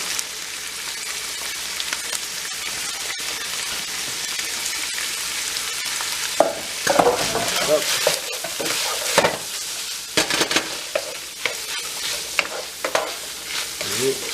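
Carrot, celery and onion cooking in oil for a cottage pie, a soft steady sizzle that grows busier midway with stirring scrapes and spoon clatter, no talking.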